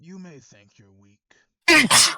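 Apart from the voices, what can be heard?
sneeze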